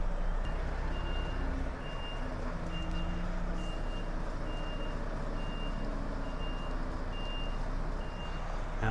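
A truck's reversing alarm beeps in a regular, evenly spaced series of about eight tones, sounding over a low, rumbling idle engine during a basic reverse manoeuvre.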